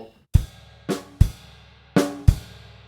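A drum kit plays a bar of a grade 3 piece, with bass drum hits under crash cymbals: five loud, evenly spaced strikes, each splashing and decaying, close and alone.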